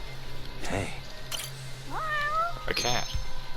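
Cat meowing in the game Judgement, several distinct meows, some rising and wavering, heard up close over a low steady game hum while someone talks.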